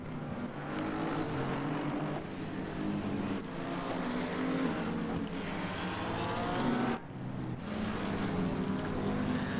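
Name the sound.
race cars passing by at Mount Panorama in racing video game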